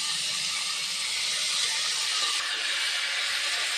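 Grated raw potato dropped into a pan of hot frying spices gives a steady, loud, broad sizzling hiss that holds evenly for a few seconds without pause.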